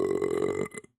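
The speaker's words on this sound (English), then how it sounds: "I just had a bigger burp than you" A loud, drawn-out burp lasting most of a second, close and alone, tailing off into a couple of short gulping sounds and brief silence.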